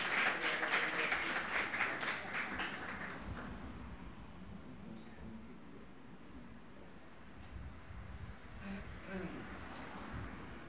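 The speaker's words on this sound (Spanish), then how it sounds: "Entonces, bueno. Muy bien, entonces un gran aplauso para ellos." Audience applause for the speakers at a panel discussion on portraiture and self-portraiture in Dominican visual arts: a dense burst of clapping at the start that fades within a few seconds as a voice begins talking.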